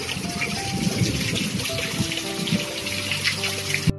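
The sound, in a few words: heavy rain, water flowing into the house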